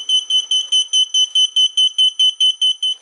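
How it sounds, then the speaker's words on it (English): A GEPRC MX3 Sparrow drone beeps insistently at close range, a steady run of about a dozen sharp, evenly spaced electronic tones alone in quiet surroundings. "I think one of these buttons must be beeping."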